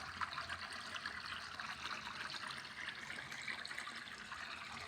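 A small tributary stream of the Sió river trickles and flows steadily outdoors, a soft continuous watery rush with faint splashing detail, alone without voices throughout.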